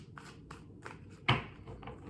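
A tarot card deck is shuffled by hand in a quiet room, producing a series of soft, quick riffling flicks followed by one sharper slap of cards.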